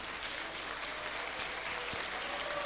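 An audience applauds a call to honour Iceland for legalizing gay marriage, a steady, fairly quiet wash of clapping that holds evenly throughout, heard from a distance in a large hall.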